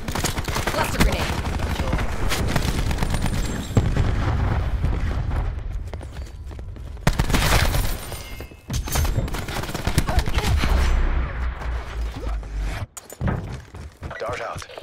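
Cluster grenade blasts in the video game Call of Duty Black Ops, a dense run of overlapping explosions and crackling bursts, loud and continuous with brief gaps, with game chatter in the mix.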